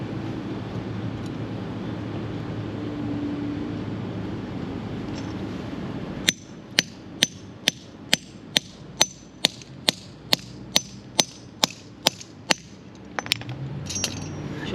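Sharp hammer strikes crimp a terminal lug onto a solar power cable, a steady series of about fifteen loud, evenly spaced metallic blows close by, preceded by quiet background.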